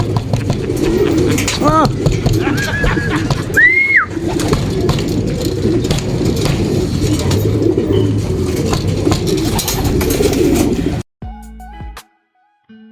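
Racing pigeons returning to the loft give soft cooing calls amid background rumble, with a short vocal exclamation near the start, before the sound cuts out near the end.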